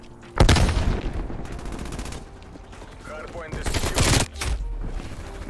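PPSh submachine gun in Call of Duty Cold War fires two loud rapid bursts, the first short and sharp, the second a longer rattle, close and dominant over game ambience.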